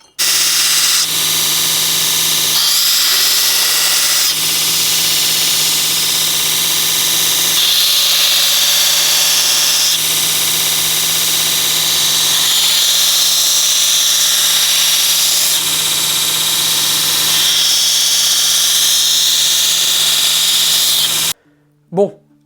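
A power tool grinds steadily while shaping a forged fire-starter knife, a loud continuous whine broken by brief shifts in pressure, cutting out at the end with a short clunk.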